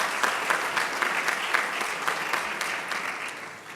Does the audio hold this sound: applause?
yes